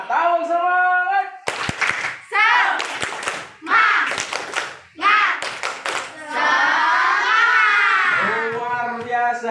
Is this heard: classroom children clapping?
yes